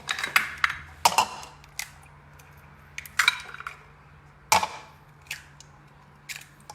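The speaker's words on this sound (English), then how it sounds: "So first I'm gonna crack the egg into my bowl." An egg is cracked and opened into a bowl in a home kitchen, a few sharp taps and clicks of shell against the rim, close and distinct over quiet background.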